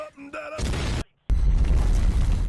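A tank explodes in the War Thunder video game: a heavy, booming blast after brief tonal sounds, then a short silent gap and a sustained loud rumbling roar, with no talking.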